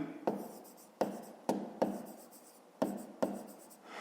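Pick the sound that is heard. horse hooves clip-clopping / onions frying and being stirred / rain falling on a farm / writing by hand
writing by hand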